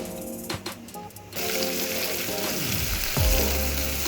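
Crispy fritters sizzle steadily in hot oil, a dense crackling hiss that swells louder toward the end, with a low clunk near the close.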